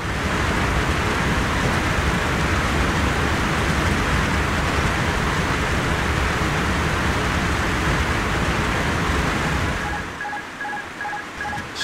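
Heavy rain and moderate turbulence buffeting an airliner approaching Montreal airport in a flight simulator game, a loud steady roar of rain and wind that drops away near the end as faint repeating beeps sound.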